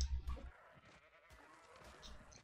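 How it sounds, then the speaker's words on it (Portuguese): A sheep in the ARK video game bleats several times in short, uneven calls over faint background game sounds, fairly quiet and at a middle distance. "Ovelha, olha aí, ovelha."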